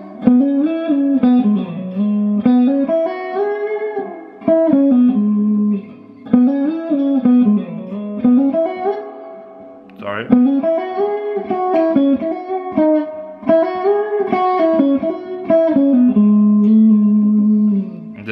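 An electric guitar plays a repeated bluesy lick from a song's mid solo, live at the O2 London, with hammer-ons and bent, sustained notes, loud and near, looping through several phrases without any talking.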